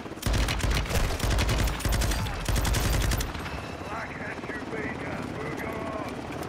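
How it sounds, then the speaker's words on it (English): A helicopter in Call of Duty: Modern Warfare II whirs steadily through a dusty battlefield, loud and continuous, with a burst of heavy rapid gunfire over it for the first three seconds before the rotor drone carries on alone. "That freaking chopper's blowing up so much damn dust."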